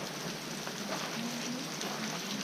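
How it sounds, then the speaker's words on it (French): Steady rain falls in Japan on a trip from Chichibu toward Kamakura, a dense, even hiss of drops without a break. "Il pleut toujours."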